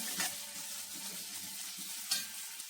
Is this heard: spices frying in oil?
yes